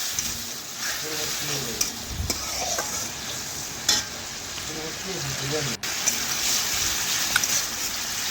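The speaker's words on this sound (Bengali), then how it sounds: "এখন খুরপি দিয়ে নাড়াচাড়া করে বেশ কিছুক্ষণ সময় নিয়ে মশলাটা একটু ভেজে নেব।" A spice paste with water and salt fries in a pan for a chicken curry, stirred with a spatula, giving a constant close sizzle with scraping strokes and a few sharp clinks of metal.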